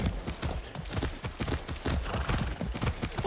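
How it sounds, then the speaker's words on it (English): A horse gallops in the video game Far Cry 6, rapid repeated hoofbeats drumming close and steady for several seconds with no talk over them. "That's a good horse."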